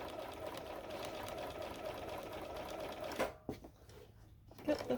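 Domestic sewing machine stitching half square triangle quilt pieces, a steady close whirring hum that runs for about three seconds and then stops, followed by a few soft handling clicks.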